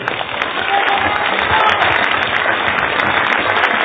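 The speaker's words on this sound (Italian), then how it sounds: "tributi un applauso a quei 6 giovani di Mineo" A large crowd gathered in a town square at a closing political rally bursts into loud, sustained applause, dense continuous clapping with scattered sharper claps standing out near the listener.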